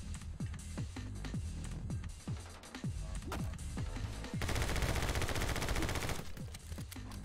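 Video game gunfire, rapid repeated shots cracking in a steady rhythm, then a dense burst of sustained machine-gun fire before single shots resume.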